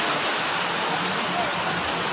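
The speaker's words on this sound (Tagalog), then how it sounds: "Palakas pa rin ng palakas ang ulan." Heavy rain pours down at the Marikina Bridge along Marcos Highway during a flood rescue, a dense, steady hiss that holds constant from start to finish, with no clear talking.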